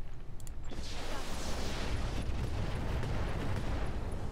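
Weapons fire destroying a turret in the Roguetech mech game, a dense sustained barrage of booming blasts and rumbling impacts, loud and continuous with no talk.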